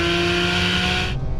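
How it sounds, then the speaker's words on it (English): A Porsche 911 GT3 on Cup 2 tyres at the damp Anglesey circuit lets out a loud, steady high-revving engine wail that cuts off abruptly near the end, heard close up without talk. "but even then you can just hear the shriek of this engine"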